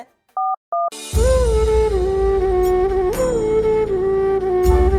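Two short dialing tones beep on a phone, followed by a steady dial or ringing tone that holds for several seconds, loud and close.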